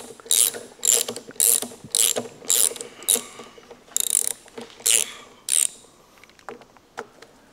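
A wrench ratchets in quick bursts of sharp metallic clicking, about eight close, fairly quiet runs with brief pauses between, as a bolt on a carburetor is loosened.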